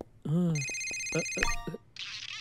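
An electronic phone ringtone trills in a repeating pattern while a voice speaks nearby, followed by a brief burst of hiss.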